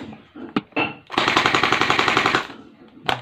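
An HK416 water gel blaster toy rifle fires on full auto in a dense, rapid burst of about one and a half seconds, with a few single shots before and after, close and loud.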